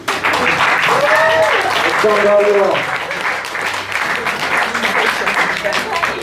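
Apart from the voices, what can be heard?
audience applause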